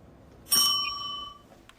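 A single sharp ring of a small bicycle-style bell struck on cue during an online session, bright metallic tone that decays over about a second in a quiet room.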